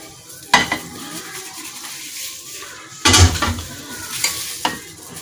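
A spoon stirring spice powders—chili flakes, cumin and black pepper—into a bowl of yogurt, with soft scraping and two louder knocks against the bowl amid low, steady mixing sounds.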